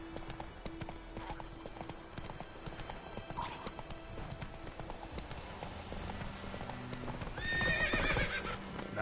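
Roach the horse in The Witcher 3 galloping with rapid clip-clop hoofbeats, then a loud neigh near the end, set against quiet game ambience.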